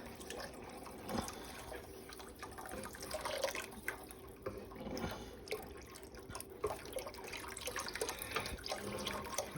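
Water pours steadily into a pot, a continuous splashing stream with faint kitchen clatter, close and moderately loud.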